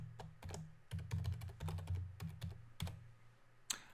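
Rapid keystrokes on a computer keyboard while entering a password during a Windows Server 2019 installation, a dense run of close, crisp clicks with a few louder key strikes and brief pauses, no talking.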